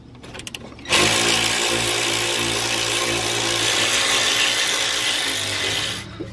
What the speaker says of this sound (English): Let's remove these slide bolts.